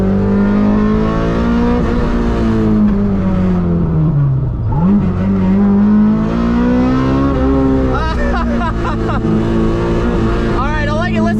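A Honda S2000 engine revs hard and climbs in pitch as the VTEC variable valve timing engages, a loud sustained howl from inside the car that dips once and rises again.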